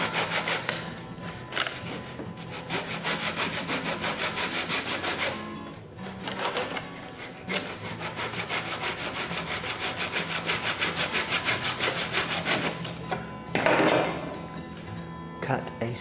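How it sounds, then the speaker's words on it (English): A Japanese pull saw cuts wood between two boards with fast, rhythmic rasping strokes that continue steadily, broken by a few short pauses. "be able to get a saw blade, either this Japanese pull saw or a hacksaw blade, put it between the two boards"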